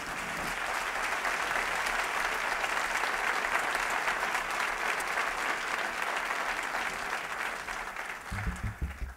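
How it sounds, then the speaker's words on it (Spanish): A jazz festival crowd at an outdoor trio concert in San Javier applauds in a full, sustained burst, steady and fairly close, until it tapers near the end as a few low thumps come in. "Un fuerte aplauso, por favor."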